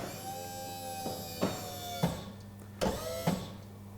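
An electric power clamp on a drum tipper drives its clamp head down onto a drum, a quiet motor whine broken by several sharp clunks and knocks as the mechanism tightens.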